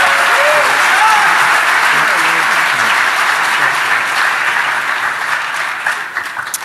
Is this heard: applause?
yes